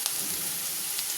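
Potatoes with onion frying in hot oil for a bottle gourd and potato fry, a steady close hiss and sizzle lasting throughout with no talk.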